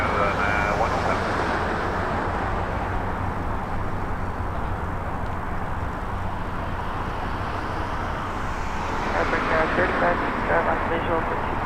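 An Air Canada airliner takes off at Toronto Pearson, a loud, sustained jet engine roar that holds steady and swells slightly near the end, with radio chatter faintly underneath.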